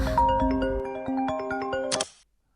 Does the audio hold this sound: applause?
no